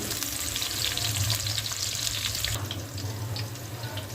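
Finely chopped onion fries in ghee in a kadai, giving a dense, continuous sizzle with a wet, hissy texture that stays close and fairly loud throughout, with no speech.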